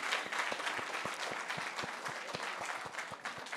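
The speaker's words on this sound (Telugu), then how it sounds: "సో ప్లీజ్ అందరు ఒక్కసారి వీళ్ళందరూ క్లాప్స్ అండి." Audience applause for a film team at a movie success celebration: a steady wash of clapping crowd filling the hall, with regular low thudding beats pulsing underneath throughout.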